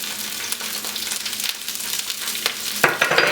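Sesame seeds sizzle in hot sesame oil, a steady close hiss with scattered crackles and a few brief stirring knocks toward the end.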